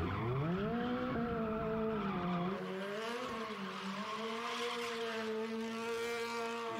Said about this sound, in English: It's just spinning the tires so fast.